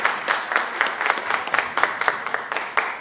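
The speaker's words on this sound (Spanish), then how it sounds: "Un aplauso afectuoso," Audience applause at an international seminar on alternative economies, a steady crowd clapping with distinct hand-claps audible throughout, moderately loud and close, with no talking over it.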